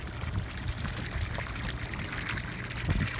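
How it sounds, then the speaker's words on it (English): Steady rushing and trickling water flowing nearby into a rice field in Kochi, Japan, a continuous wash of noise with occasional low gurgles. "Water for the rice."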